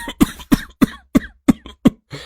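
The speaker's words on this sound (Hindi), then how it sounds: "खांसी की आवाज से पूरा घर परेशान हो जाता है" A man in a family home coughs loudly six times in a fast, even rhythm. Each harsh bark is followed by a brief gasp, and one final rougher breath ends the fit.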